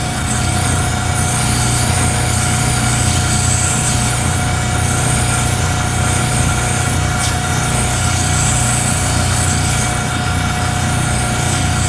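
A motor-driven leather drum burnisher runs against a glued leather edge, a loud, steady, continuous mechanical whir and hum with a low droning body, unbroken throughout and without speech.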